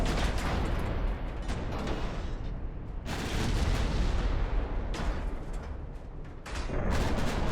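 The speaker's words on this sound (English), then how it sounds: "More torpedoes, keep firing them." Naval gunfire in Ultimate Admiral: Dreadnoughts, heavy booming salvos and rumbling blasts from a warship firing guns and torpedoes, loud and nearly continuous with brief lulls between volleys.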